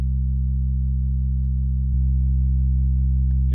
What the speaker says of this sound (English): now you've got a saw bass